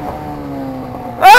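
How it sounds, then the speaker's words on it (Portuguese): Honda XRE 300 Rally motorcycle engine holding a steady, low idle-like drone, then revving loudly and suddenly near the end as it accelerates. "O cara sai acelerando minha moto assim"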